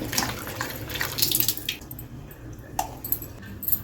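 Water splashes and swishes in a bowl as tamarind is rinsed by hand in a home kitchen, a close burst of sloshing that thins out to a few faint drips and squishes.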